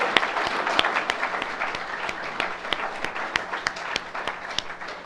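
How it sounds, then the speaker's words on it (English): A church congregation clapping together in rhythm, a steady beat of sharp claps roughly every quarter second over a bed of scattered hand noise, filling the room for several seconds. "let's clap our hands"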